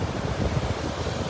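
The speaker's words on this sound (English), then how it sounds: "Let you just hear the water for a second" Ocean waves wash steadily at Coquina Beach on Anna Maria Island, a continuous low rumble of surf mixed with wind buffeting the microphone, with no voices.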